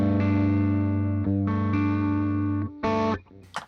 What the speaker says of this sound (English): We're gonna do this Dynacomp style compressor.